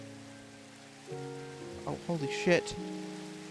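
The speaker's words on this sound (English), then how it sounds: "Stupid fucking rain." Steady rain falls in the video game Minecraft, a soft continuous patter throughout, while someone talks and swears over it along with a few low game tones.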